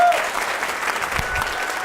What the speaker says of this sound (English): Please give our scholarship awardees a big round of applause.